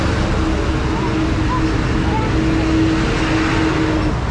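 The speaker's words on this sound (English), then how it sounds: "Yeah, all of a sudden there's traffic." Street traffic on a main road in Ubud, Bali makes a constant loud rumble of passing engines and road noise, with a motor humming through the middle of it.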